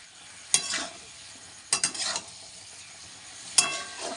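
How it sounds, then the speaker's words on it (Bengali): Chicken pieces sizzling in fried spice paste in a pan, a constant sizzle broken by a few sharp scraping stirs of a spatula. "এবার মাংসটা দিয়ে এটাকে নাড়াচাড়া করি ভালো করে একটু কষাই"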